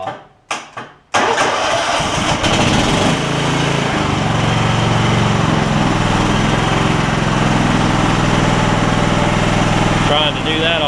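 A John Deere LX266 lawn mower engine cranks in a few short bursts, then catches and settles into a loud, steady close idle, with a voice talking over it.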